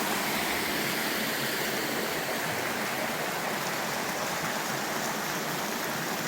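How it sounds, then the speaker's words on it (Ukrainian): The Irpin river flows past a ruined mill in a Ukrainian village, a steady broadband rush of water sounding close and continuous, with no voices. "Тут раніше стояв млин але від млина залишилась тільки одна стіна, але протікає річка."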